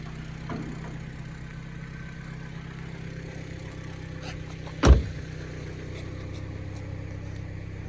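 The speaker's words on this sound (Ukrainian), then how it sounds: "Десь труба трошки підтікає, чує." A car engine idles steadily with a low, even hum and a slightly leaking exhaust pipe, broken once by a short, sharp puff or knock midway through.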